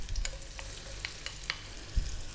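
Onion and garlic sizzling in olive oil in a pan over above-medium heat, a soft, steady frying hiss with occasional light crackles and pops and a low thump near the end.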